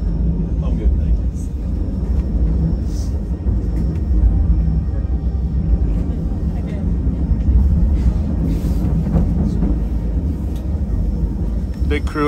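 The White Pass and Yukon Route train rumbles along near Skagway, Alaska, a loud, constant low roar heard close up with faint squeals and clanks over it, and people talk throughout.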